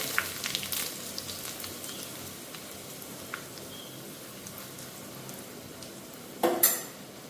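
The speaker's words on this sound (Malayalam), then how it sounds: "കടുക് പൊട്ടിയിട്ടുണ്ട്" Mustard seeds spluttering in hot oil for a Kerala dosa and tapioca curry meal: a continuous crackling fry dotted with small pops, then a louder, sharper burst near the end, with no voices.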